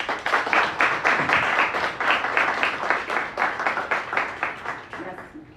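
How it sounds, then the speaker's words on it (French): Audience at the launch event of a new Haitian women's disability organization in Jacmel applauds warmly, a dense, steady clapping that carries on loud for several seconds before easing at the end. "nous demandons à toute l'assistance de nous aider à les applaudir chaudement"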